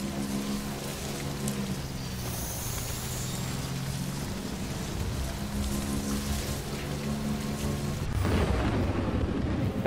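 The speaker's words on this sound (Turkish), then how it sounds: "Yağmur gene başladı ya." Rain pours in the video game Death Stranding, a dense steady wash of falling water mixed with low rumbling game ambience and a faint tonal hum, swelling louder near the end with no speech.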